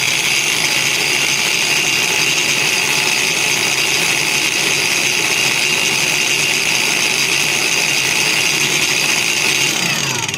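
A SHIDOKU cordless angle grinder runs steadily at its lowest speed setting, a loud continuous whine with a high-pitched tone that holds even for about ten seconds, with no speech over it.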